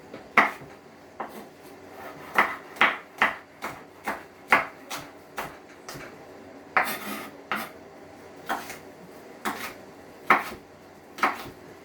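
A knife dicing a green pepper for meatball sauce: a steady run of crisp chops on a cutting board, about two per second with short pauses, close and alone with no voices.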